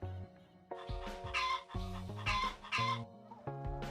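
Chickens cluck in the farming village of the Settlement Survival video game, a steady series of short, fairly loud clucks repeating over a few seconds with no voices.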